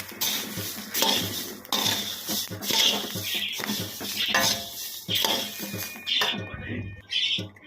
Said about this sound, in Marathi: आणि झाऱ्याने असे भाजून घेऊ